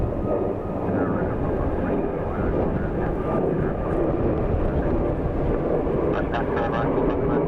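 A Ryanair jet lands in a storm crosswind at Dublin Airport, a loud continuous engine roar with rushing wind noise holding steady throughout, with voices speaking over it.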